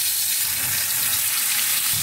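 Fresh shrimp tails fry in hot oil with a loud, continuous, close sizzle and crackle that stays steady from start to finish.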